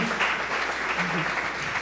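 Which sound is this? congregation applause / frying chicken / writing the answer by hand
congregation applause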